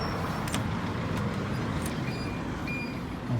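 A car rolls back into a dealership garage at low speed, a steady low engine and tyre rumble with a few faint clicks and squeaks in an enclosed space.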